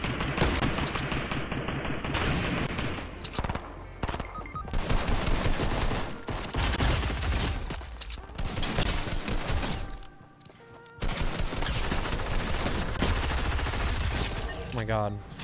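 Rapid bursts of gunfire from a video game battle royale match with an arena glider, loud and dense, continuing almost without pause, with speech mixed in over the shooting.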